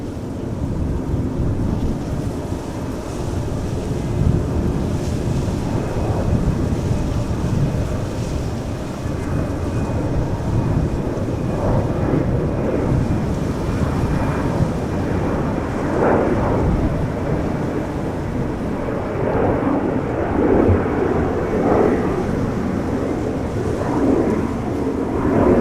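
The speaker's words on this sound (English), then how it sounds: "Embraer 190 to Warsaw." An Embraer 190 jet departing Amsterdam Schiphol for Warsaw roars with a deep, rumbling engine noise mixed with buffeting wind on the microphone, loud and sustained throughout.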